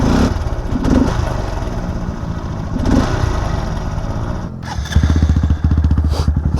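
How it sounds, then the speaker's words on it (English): A stock-exhaust Honda Grom motorcycle runs loud and close, with a steady engine drone, brief revs, and a sharper, choppier exhaust pulse toward the end. "Stock exhaust, listen how loud this is."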